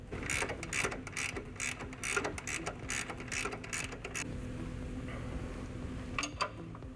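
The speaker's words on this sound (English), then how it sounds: "Right now I'm loosening this upper control arm." A ratchet wrench loosens the upper control arm bolt on a truck during a leveling or lift kit install, a close, steady clicking run of rapid pawl ticks that carries through most of the clip and stops near the end.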